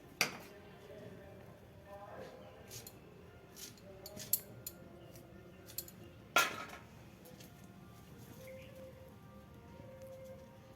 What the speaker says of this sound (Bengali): এগুলো ছোট ছোট পিস পিস করে কেটে নিতে হবে